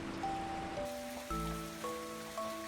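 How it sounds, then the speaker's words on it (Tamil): Raindrops patter against a window in a steady, soft wash beneath sustained gentle musical tones, with no one speaking. "மழைத்துளிகள் எல்லாம் ஜன்னல்ல விழுகிற சத்தம் விழுக் விழுக்குன்னு ஒரு தாலாட்டு மாதிரி கேட்கும்"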